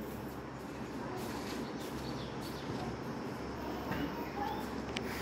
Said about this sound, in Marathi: वाहनांची घरघर ऐकायला येते.